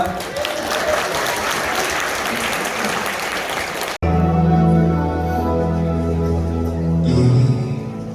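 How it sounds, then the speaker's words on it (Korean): Wedding guests at a Korean wedding clap in a loud, continuous wave for about four seconds before an abrupt cut to music with singing. "박수로 응원해주시면 정말 감사하겠습니다"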